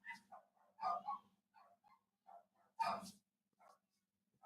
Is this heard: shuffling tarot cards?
no